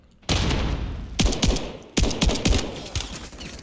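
Rapid bursts of turret gunfire in Call of Duty MW3, loud and close, with sharp repeated shots clustered in two volleys separated by a brief pause.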